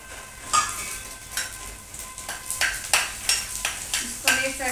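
Ajwain (carom seeds) sizzles in hot oil with a soft crackle, punctuated by sharp metallic spoon taps and stirring clinks against the pan at irregular intervals.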